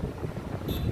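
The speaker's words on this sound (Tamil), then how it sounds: "நல்லா கூலிங்காக இருக்குங்க, காற்று அடிக்குது." Steady wind buffets the microphone at an outdoor viewpoint, giving a dense, continuous rumbling roar throughout with no voices.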